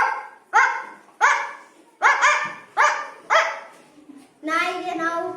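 A voice imitates a dog barking, giving a series of sharp separate woofs spaced about half a second apart and then a longer whining, yelping cry, loud and close in a quiet room.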